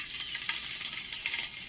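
Minced garlic dropped into hot oil for a dhaba-style egg tarka gives off a fairly quiet, steady hissing sizzle with faint crackles, brief and alone.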